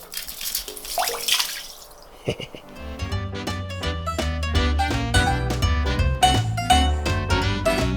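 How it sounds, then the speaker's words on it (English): Well water in Alaska runs from a tap into a tub or basin. Loud splashing gives way to a steady, close rush whose tone rises as it fills. "Listen, you can hear the water."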